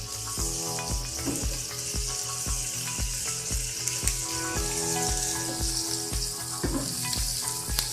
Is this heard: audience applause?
no